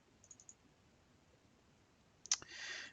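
Computer mouse clicks while working in Autodesk Revit, a few faint quick taps early on and then a louder double click followed by brief rustling, close and quiet.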